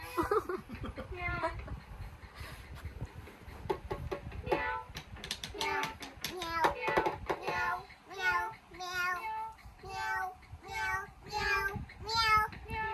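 Cat-like meows come in a string of drawn-out calls at a band practice, mixed with chuckles and snickers. Some of the meows may be voiced imitations, and people talk around them.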